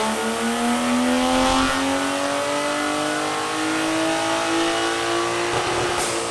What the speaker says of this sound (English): a Mustang with a mighty Australian Ford Barra straight 6 under the hood